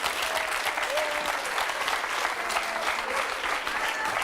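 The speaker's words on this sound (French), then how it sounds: "On peut applaudir très fort." A crowd applauds loudly and continuously at a show of inventions solving everyday problems, a thick, even wash of clapping filling the whole stretch without pause, with faint voices buried beneath it.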